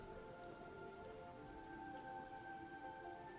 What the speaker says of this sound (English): It's rain falling on a beach